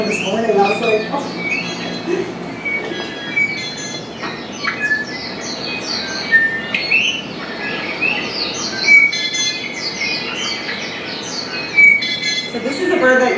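Song of the Akekee, a Hawaiian forest honeycreeper, repeated high thin trilling phrases recurring every second or two over a faint background hiss, with no talk.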